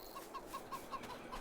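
Farm chickens cluck in Farming Simulator 22, a soft, quick series of short, evenly paced clucks heard faintly at a distance against quiet background ambience.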